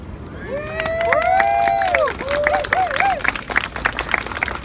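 An audience claps and cheers for a fire juggler, with rising whoops and whistles over a dense patter of hands that stays loud throughout.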